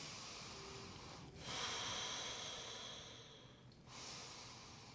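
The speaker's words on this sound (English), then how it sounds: "Take a couple breaths in and out through your nostrils." Slow breathing in and out through the nostrils during a calm meditation, with soft airy inhales and exhales rising and falling over several seconds, close and quiet, with no talking.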